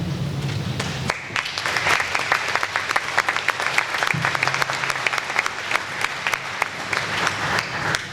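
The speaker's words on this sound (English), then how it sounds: "I appreciate that round of applause" A town meeting audience claps in a dense, sustained round of applause that starts abruptly after a second and continues steadily to the end, with no speech over it.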